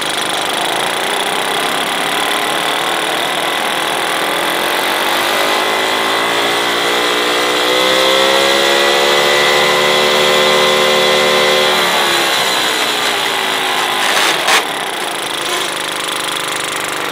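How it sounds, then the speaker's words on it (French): A Solex moped engine runs steadily on a test bench, a loud, continuous buzzing drone whose pitch climbs as the throttle opens in the middle and then settles back, with no talk over it. "on terminera donc ce Solex par une petite vidéo sur son fonctionnement au banc"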